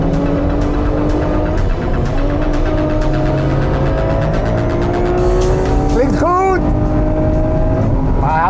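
Lamborghini Sian V12 hybrid sports car engine roaring loudly while driving, with a steady drone and gear changes, other cars' engines revving nearby near the end, and voices talking over it.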